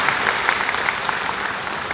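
Steady audience applause fills a workshop hall for early-childhood teachers, continuous moderately loud clapping from a crowd throughout.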